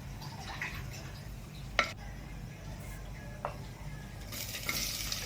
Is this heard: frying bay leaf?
yes